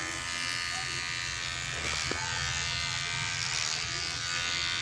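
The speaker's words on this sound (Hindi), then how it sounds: "ट्रिमर भी हमारा स्लो है," An electric trimmer buzzes steadily and close up while clipping a golden retriever's dandruff-flecked coat, a continuous motor hum running the whole time with a brief dip in tone near the middle.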